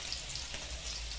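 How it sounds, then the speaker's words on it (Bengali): Potatoes fry lightly in oil with a faint, even sizzle that stays steady and quiet through the brief moment. "এখন আমি আলুগুলো একটুখানি হালকা ভাজা করে নেব"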